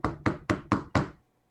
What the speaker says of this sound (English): Was that knocking or was that sarcastic clapping?